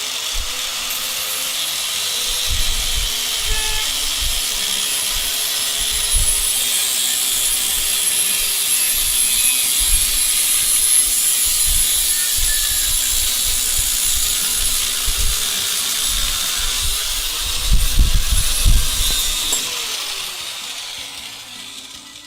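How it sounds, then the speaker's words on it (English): A worn grinding wheel grinds metal during construction of a rolling oven, a steady broadband rasp running continuously throughout with low rumbling underneath, swelling louder near the end. "This grinding wheel's getting fucked."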